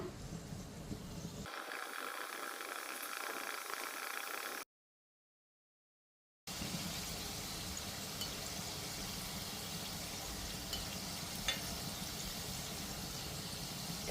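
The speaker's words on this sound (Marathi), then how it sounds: "बाकीच्या करंज्या मी तळून घेते" Besan karanji pastries fry in hot oil with a faint, steady hiss and bubbling, broken by a short silent gap before the low simmering sizzle resumes.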